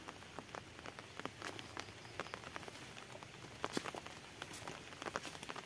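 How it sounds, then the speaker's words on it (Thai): Steady rain falls on a rice field, with many scattered drops pattering and tapping close by, soft and continuous with no voices. "เช้านี้ฝนตกนะครับ"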